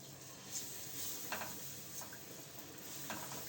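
Minced garlic with coriander and salt fries in a pan for an Egyptian koshari sauce, giving a quiet, steady sizzle broken by soft scraping stirs at close range, with no talking.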